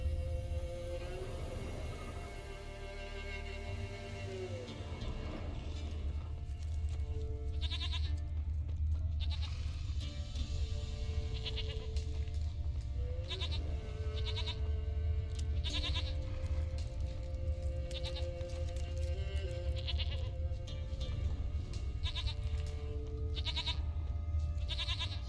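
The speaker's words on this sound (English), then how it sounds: "Here, goat." A goat bleats in The Witcher 3 video game, with calls that rise over steady game music and ambient hum across the scene.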